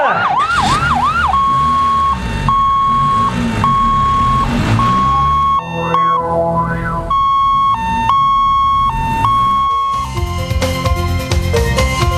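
A loud ambulance siren wails, then switches to a repeating two-tone hi-lo pattern, close by and continuous, with no talking.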